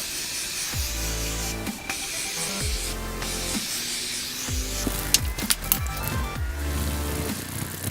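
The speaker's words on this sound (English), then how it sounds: "I'm gonna go in and set everything with the Morphe Continuous Setting Spray." A makeup setting spray bottle hisses in repeated bursts, several short sprays in a row, close up, over a background hum.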